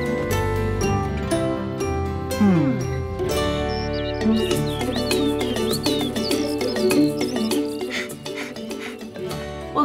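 Birds chirp and whistle over a dense bed of sustained tonal sound, with bright warbling calls growing busier in the second half.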